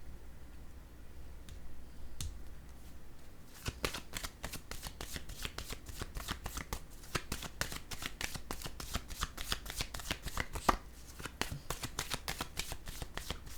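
Oracle cards being shuffled by hand, a quick, continuous run of crisp riffling clicks and flutters close by, after a quieter stretch of light handling with no talking.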